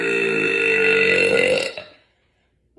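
A young woman lets out one long, loud burp with a strong tonal, droning quality, sustained for well over a second before cutting off into silence.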